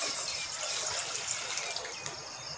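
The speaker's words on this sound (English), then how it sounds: "we first put some water in and let it boil" Water steadily poured or running into a pot at a kitchen in Samui, Thailand, for boiling before making tempeh curry: a continuous close hiss and splash with no talk.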